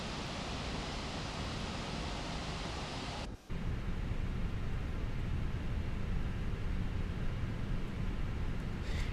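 Cockpit ambience of a Fenix A321 airliner in Microsoft Flight Simulator 2024: a steady, loud broadband rush that runs without pause, briefly cutting out for a moment around the third second before resuming unchanged.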